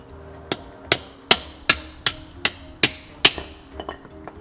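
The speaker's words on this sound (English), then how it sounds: "you have to hit them out with a hammer" A hammer strikes seized metal brake parts about ten times at a steady pace, each blow sharp and ringing, the last few lighter.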